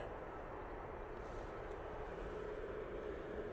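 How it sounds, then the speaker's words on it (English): An Aer Lingus ATR 72 turboprop arriving from Belfast drones faintly in the distance, a low steady propeller hum with no talk over it. "So this is the ATR 72 coming in from Belfast for Aer Lingus."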